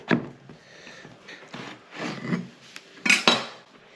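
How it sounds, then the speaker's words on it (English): A knife trims the tips off fresh eggplants on a kitchen board, giving several close, sharp chopping knocks and scraping clatters spaced irregularly over a few seconds, with no talking. "I'm just gonna cut these off. Cut the tips off. And then we're gonna slice them right down the middle."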